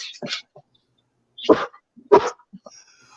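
A dog barks in a few sharp bursts, fairly close, with short gaps of quiet between them.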